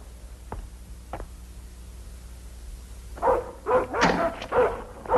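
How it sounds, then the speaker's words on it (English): A dog barks a few times nearby, two sharp yaps followed by a short burst of louder barking. "Stop barking."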